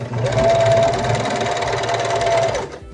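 A sewing machine stitches cloth wipes in one continuous burst of rapid, even mechanical whirring and needle chatter that runs for a few seconds close up before stopping.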